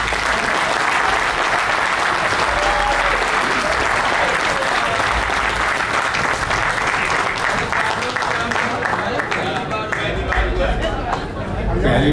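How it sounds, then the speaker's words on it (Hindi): Audience at an international mushaira and kavi sammelan in Bahrain applauds loudly to welcome a poet, a steady dense wash of clapping with some crowd chatter underneath, sustained and close for about twelve seconds. "सबकी भरपूर तालियों में तशरीफ लाएंगे मारूफ शायर अरुण जैनी।"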